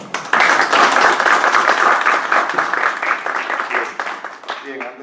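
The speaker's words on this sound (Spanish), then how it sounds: "Un fuerte aplauso, por favor" An audience at a talk on Ludwig von Mises applauds a speaker with dense, steady clapping that fades out as a voice begins.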